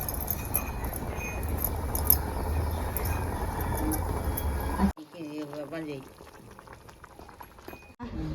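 Vermicelli simmering in milk in a pot for jaggery-coconut semiya payasam, a steady dense bubbling hiss up close for about five seconds, then a quieter stretch with a voice talking over it.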